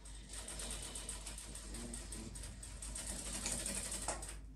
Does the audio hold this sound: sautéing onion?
no